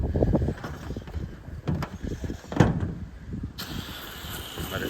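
Wind gusts and buffets outdoors around a small house being softwashed, a steady rumbling roar with a brief sharper swell partway through, close to the microphone and without any voices.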